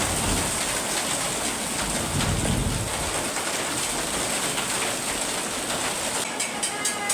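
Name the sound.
hail falling on a sugarcane field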